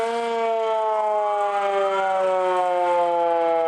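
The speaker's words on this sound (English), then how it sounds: "It's a Cold War era air raid siren, dated 1969." A 1969 Cold War era air raid siren wails loud and steady, its stacked harmonic tones holding a sustained pitch with a slight rising sweep midway, sounding alone without talk.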